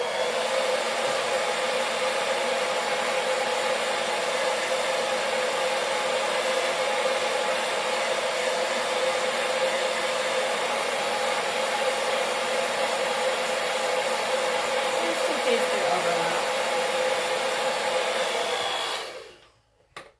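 A hair dryer blows continuously to dry paint on a sunflower welcome sign, a loud, steady, close whoosh that holds for about nineteen seconds before it cuts off abruptly.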